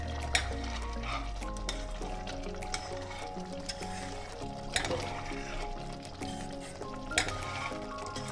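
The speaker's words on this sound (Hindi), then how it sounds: "अच्छे से इसको चलाएंगे।" Chicken pista korma stirred in a pan with kewra added, a wet sizzle under repeated scraping and clinking spoon strokes, close and continuous without speech.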